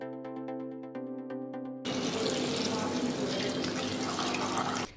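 Soaking water is drained off chickpeas in a kitchen. Soft tonal music plays first, then a loud, continuous rush of pouring water takes over for about three seconds before stopping abruptly.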